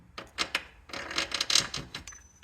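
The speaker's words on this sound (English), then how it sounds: "So now let's get this bolt out." A 14 mm tool works the starter bolt loose on a 2012 Audi A6 3.0, making close, scraping, ratcheting metal clicks and rubbing in quick irregular bursts over a couple of seconds.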